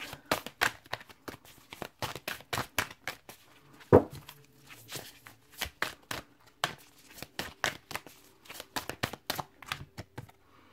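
Tarot cards shuffled and drawn close up in a quiet room, a long run of quick crisp riffling and slapping card sounds in irregular bursts with one louder knock partway through.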